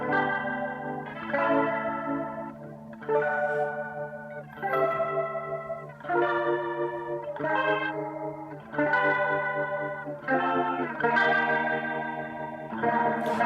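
A guitar played through a Leslie rotating speaker on fast speed gives sustained chords with a swirling, warbling chorus-like shimmer, changing every second or so, loud and close with no talking.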